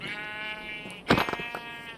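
Sheep in the Minecraft video game bleat over faint background music, one short bleat followed by a louder, clearer one near the end.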